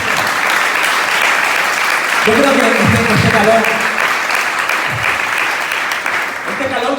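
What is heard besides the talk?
congregation applause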